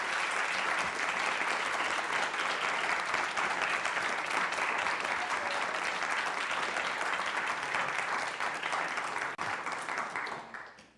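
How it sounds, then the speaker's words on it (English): Sustained audience applause for a panel, a dense even wash of many hands clapping together at steady loudness, tapering off in the final second. "If you can join me in a round of applause for each member of our panel"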